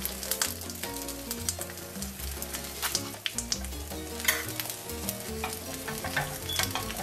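A quesadilla fries in a little oil over medium heat, with a continuous crackling sizzle and occasional stirring scrapes over a tonal background throughout.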